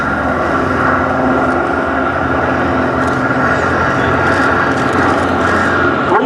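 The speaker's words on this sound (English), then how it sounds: "What we see here is actually a post-war mark, an Anson T-21 trainer that was built in 1950." An Avro Anson T-21 trainer aircraft, built in 1950, flies at a VE Day airshow at Duxford, its propeller engines making a loud, constant droning roar that fills the whole stretch without letup.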